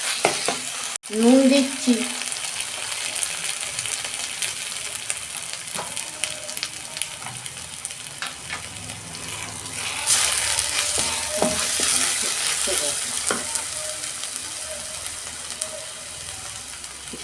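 Ginger and garlic sizzle and fry in a pan with tomato while being stirred, a steady hiss with scraping strokes that grows louder partway through; a voice speaks briefly near the start.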